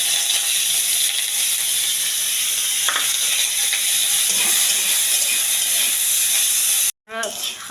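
Onion sliding into hot oil seasoned with nigella seeds: a loud, continuous sizzle and hiss with occasional scrapes and crackles, cut off by a brief dropout near the end before sizzling resumes.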